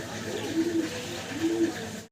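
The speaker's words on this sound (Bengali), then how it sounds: "এক জোড়া মডার্না কবুতর দেখাবো আপনাদের মাশাআল্লাহ।" A pair of Modena pigeons cooing nearby, two soft low coos in a row over light background noise, then the sound cuts off abruptly.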